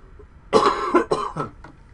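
An ill man coughs several times close to the mic, a short burst of harsh coughs and a throat clear, then quiet.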